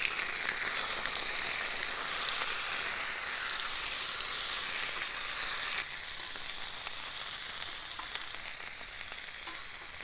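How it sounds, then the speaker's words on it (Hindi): Chicken fries in hot oil on a tawa with a loud, continuous sizzle and crackle, steady and close, easing slightly partway through with no voices. "अब हम चिकन को ऑयल में फ्राई करेंगे"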